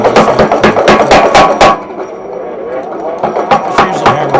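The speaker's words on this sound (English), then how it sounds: "We'll use the power hammer to drill this hook." Rapid, heavy mechanical blows of a power hammer striking hot metal while forging a hook, in bursts, pausing briefly before another run of hits; loud and close.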